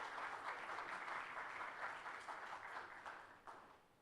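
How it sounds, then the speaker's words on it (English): Faint, distant applause from an audience at an insurance quiz grand finale, steady clapping for about four seconds that gradually tapers off. "So a huge round of applause for all these 5 teams here."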